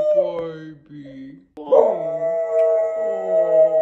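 A rescue dog howls in long, wavering, drawn-out tones, breaking off briefly before rising into a louder, sustained howl that carries to the end.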